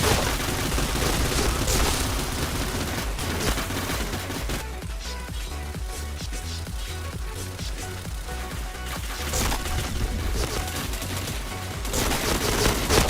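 Rapid automatic gunfire from the video game Point Blank runs in dense, continuous bursts throughout. The shots are loud and close, with a slightly sparser stretch in the middle.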